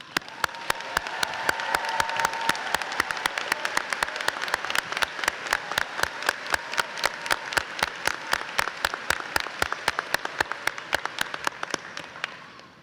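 Crowd applauds school staff at a high school commencement ceremony, sustained dense clapping with sharp individual claps standing out near the microphone, going on for over twelve seconds.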